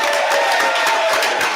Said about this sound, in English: let's give Shane Graham a round of applause for joining us